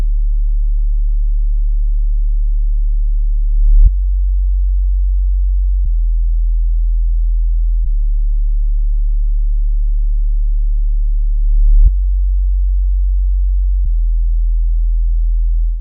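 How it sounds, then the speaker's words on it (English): A soloed sub bass from a Serum synth plays deep, clean sustained low notes, loud and heavy, changing pitch every couple of seconds with soft clicks at each note change, nothing else playing. "The last thing I've got in here is the bass, which sounds like this, soloed."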